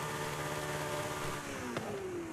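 A Porsche exhaust revs in the video game Forza Horizon 5, a steady engine drone with a pitch that climbs and then drops, closing on a short crackle.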